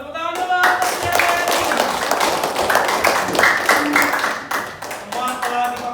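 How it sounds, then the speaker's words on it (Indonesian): Students in a vocational high school classroom clap together in a brisk, close burst of uneven hand claps lasting several seconds, with voices mixed in over the clapping. "Mantap sekali, tepuk tangan dulu."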